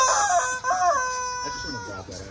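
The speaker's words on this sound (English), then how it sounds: "It's just a chicken. Don't worry. They all make those noises." A chicken gives loud, drawn-out calls close by, with a couple of strained vocal phrases and some lower clucking toward the end.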